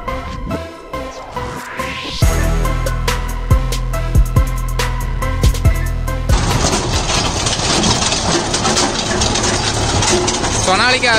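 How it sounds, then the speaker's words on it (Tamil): A Sonalika 60 RX 4WD tractor drives a PTO-powered stone picker in low third gear. A loud, steady engine drone runs throughout with clanking and rattling from the implement, and a louder, harsher stretch comes in partway. "சொனாலிக்கு 60 டிராக்டர் பார்த்தீங்கன்னா லோ தேர்ட் கியரில் ஆப்ரேட் பண்ணிட்டு இருக்கிறாங்க"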